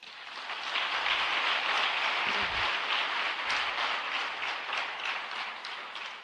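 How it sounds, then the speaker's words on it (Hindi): Sustained loud applause from a seminar audience fills the hall, a dense even wash of many hands clapping that swells in and tapers slightly at the end, with no talking over it. "एक इसके लिए जोरदार तालियां।"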